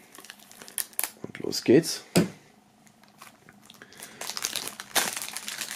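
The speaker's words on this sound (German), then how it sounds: "Werden wir mal aus der Folie holen. So, einmal einschneiden." Plastic shrink-wrap film being cut and crinkled off a music album bundle, producing scattered close rustles and crackles, with louder bursts near the middle and end; someone speaks briefly over it.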